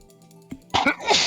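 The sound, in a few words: sneeze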